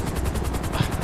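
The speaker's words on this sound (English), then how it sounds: "Oh, okay, I thought we were flying helicopters." Helicopter in GTA 5: a steady, close rotor chop with a rapid rhythmic thumping throughout a brief moment, loud and continuous.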